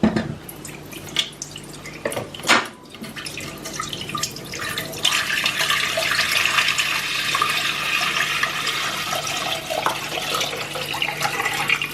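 Two litres of stock being poured into a saucepan while making mushroom risotto, a steady close trickle and splash of liquid running continuously after a brief clatter near the start.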